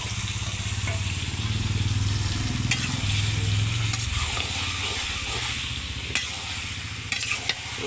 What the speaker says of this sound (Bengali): মাংসটা দিয়ে দিই এবার।